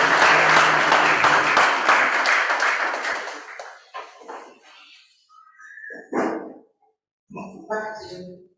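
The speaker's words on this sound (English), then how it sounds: "Let's give him another round of applause." Loud audience applause at a university law society event fills the first three seconds, then fades away. Scattered voices and other sounds follow in a quieter room.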